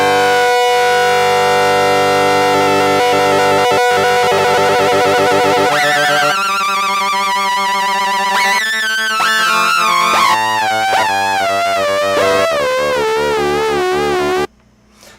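A Roland JX-03 Boutique synthesizer plays loud, harsh oscillator-sync tones whose pitch sweeps and warbles in siren-like swoops across held notes, ending abruptly near the finish; no speech.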